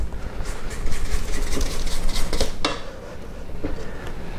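A spatula scrapes creamed butter and sugar down the sides of a mixing bowl for chocolate chip cookies, giving repeated close scraping and clattering strokes over a steady mechanical hum.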